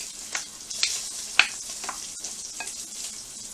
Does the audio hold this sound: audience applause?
no